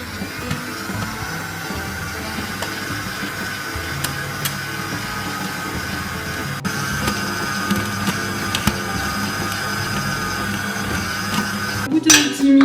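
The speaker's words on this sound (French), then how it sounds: "je vais maintenant battre au robot avec le crochet pendant 10 minutes" A stand mixer kneads burger bun dough with a dough hook. A steady motor drone with a constant whine continues for the whole stretch, with occasional faint knocks and a slight rise in level near the end, and no voices.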